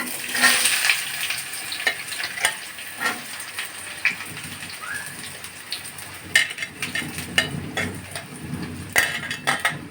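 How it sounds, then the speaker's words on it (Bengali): Spice paste frying in hot white oil in a wok, crackling and hissing with irregular spattering bursts and stirring clinks, fairly loud and close, with no talking. "প্রথমে পেস্টটাকে ব্রেস্তা করে নেব দিয়ে দিচ্ছি তেলের ভিতরে"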